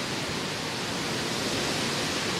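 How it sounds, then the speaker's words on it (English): Strong Hurricane Sandy wind roars outdoors as a dense, constant rush of broadband noise, steady and unbroken, with no voices heard. "Very windy."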